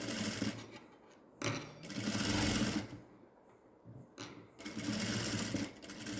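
Sewing machine stitching the shoulder seam of a gown for a newborn baby, running in several bursts of steady mechanical whirring with short pauses between, close and clear with no talk.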